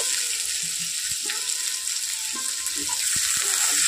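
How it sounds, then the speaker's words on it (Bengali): Onions frying in a pan over low heat give a steady, close sizzle and hiss, with a few soft clinks and scrapes breaking through. "হালকা আঁচে 1 মিনিট মতো একটু ভেজে নেব"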